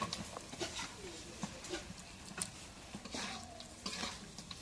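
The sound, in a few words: stirring fish with spices frying in pan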